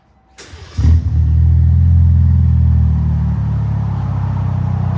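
A 2025 RAM 1500 with the 3.0L Hurricane inline-six starts and then revs hard through an aftermarket 6-inch Flowmaster Super 10 exhaust, giving a loud, deep, sustained drone close by with no talking.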